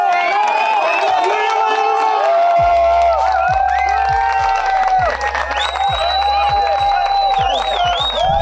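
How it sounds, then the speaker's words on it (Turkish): A crowd welcomes a chef at a ribbon-cutting event with cheering and scattered clapping, mixed with shouts and whoops, under ongoing talk and a rhythmic low thumping beat. "Danilo Şef alkışlarla karşılanıyor."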